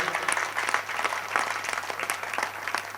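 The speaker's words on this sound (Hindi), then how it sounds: "मैं चाहता हूं सारा सदन उसके सम्मान में जोरदार ताली बजा दे" An audience at a Hindi poetry gathering (kavi sammelan) claps steadily for a poet, a dense, even wash of applause across the whole stretch, moderately loud.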